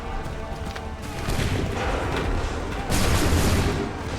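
Massed musket volleys and cannon-like booms in Assassin's Creed 3, a dense, loud roar of continuous gunfire that swells partway through and keeps rumbling, with no separate shots standing out.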